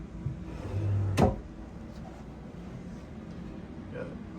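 Drawers in a junior suite cabin aboard the cruise ship Royal Caribbean Wonder of the Seas slide and thump shut once, a short low scrape ending in a sharp knock, amid quiet room tone and faint talk.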